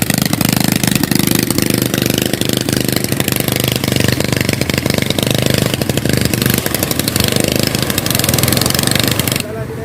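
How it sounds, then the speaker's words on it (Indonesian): A boat engine idles loudly and steadily at a beach where a fishing net is being pulled in, a rough continuous chugging drone that runs the whole time. "Mesinnya udah hidup, udah menyala."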